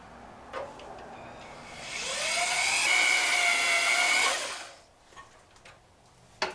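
A high-pitched drill whines into the metal cradle of a 1952 GMC PD-4103 Silverside Greyhound bus for a couple of seconds, rising and holding steady, then winding down, with a few clicks before and after.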